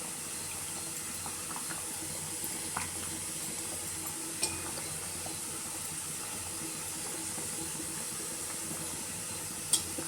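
Dried banana fish goes into a simmering Tamil karuvadu kuzhambu with raw mango, giving a soft steady bubbling hiss with a few faint clinks of a spoon against the pot.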